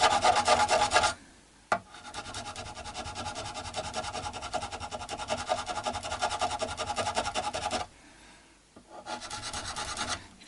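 Metal file rasping across the frets of an unbranded Telecaster-style electric guitar during a setup, steady back-and-forth filing strokes in close, loud bursts with a brief pause before the filing resumes, no talking.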